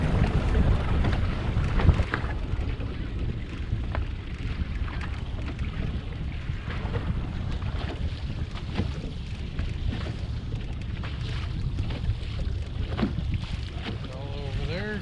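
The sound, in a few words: fishing boat turning around on the Detroit River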